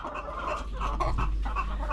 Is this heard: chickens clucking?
yes